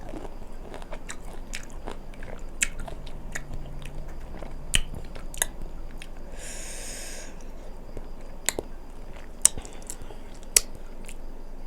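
Crunchy bites and chewing of pickled fruits such as tamarind, mango and grapes, close and intimate, with irregular sharp crunches scattered over a soft mouth-noise bed and a brief hiss midway; no talking.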